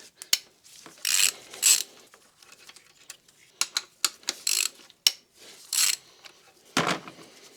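Ratchet fitted with 12-point Volkswagen sockets working on an Audi S5 engine, short irregular bursts of close clicking mixed with tool clanks and handling noises, no voices.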